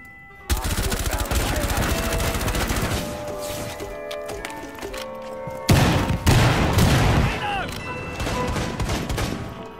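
Rapid automatic gunfire fires through a bookshelf in Rainbow Six Siege, with loud close bursts of many shots, a short pause, then a heavier volley, while players talk over it.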